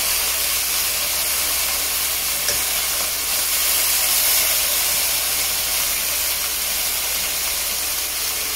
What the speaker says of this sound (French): tourner les morceaux de viande qui n'ont pas encore coloré sur toutes les faces